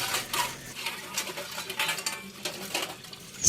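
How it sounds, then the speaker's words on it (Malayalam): Steel vessels are scrubbed and washed, with clanking metal, scraping strokes and splashing water in irregular bursts, close and fairly quiet, with no talk. "ആ സ്ക്രബ് ഇട്ട് നമ്മുടെ പാത്രങ്ങളൊക്കെ ഒന്ന് കഴുകണം"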